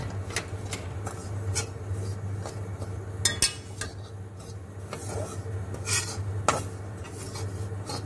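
Grated coconut roasting golden in a pan over medium flame is stirred with a utensil, giving soft scraping and rubbing strokes with occasional sharp clinks of metal against the pan, under a low steady hum.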